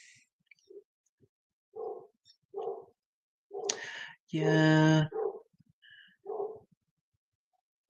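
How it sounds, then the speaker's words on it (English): A dog barks out on a street, several short distant barks spaced irregularly, faint behind a nearby speaking voice. "Sorry you can hear the dog barking."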